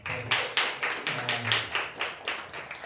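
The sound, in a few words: congregation clapping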